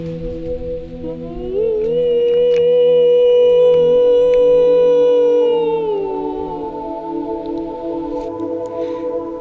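A hunter's long, drawn-out imitation howl used to call wild dogs in a forest while bowhunting, rising then sliding down over several seconds, loud and close, with harmonics and faint rustling around it.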